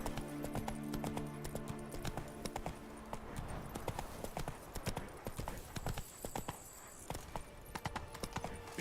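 Roach, the horse in The Witcher 3: Blood and Wine, trots with steady, rhythmic hoof clip-clops that run throughout, close and clear, over game ambience with a brief chime near the end.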